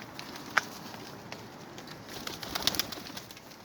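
Pigeons coo softly nearby in Saudi Arabia, with a few sharp clicks and light fluttering sounds over quiet background noise.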